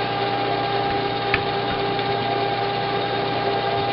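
A spinning wheel machine hums steadily in a workshop, a constant even drone running close by with no talking.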